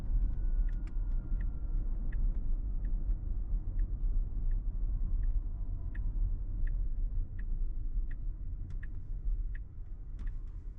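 A Tesla running FSD 12.5.1.5 on Hardware 3 makes a left turn, its cabin filled with a steady low road rumble while the turn signal ticks evenly throughout, with no talking.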